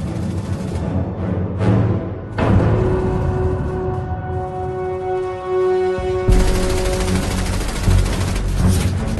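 A German MG-42 machine gun fires in World War II battle footage, rapid bursts crackling loudly amid rumbling combat noise, with a heavy new burst toward the end.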